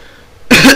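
A single sharp, loud cough bursts out after a moment of near silence in a small hut in the horror game Candles.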